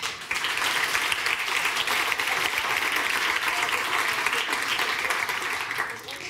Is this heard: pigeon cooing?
no